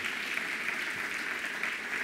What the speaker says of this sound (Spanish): Le damos un aplauso a los que nos visitan por primera vez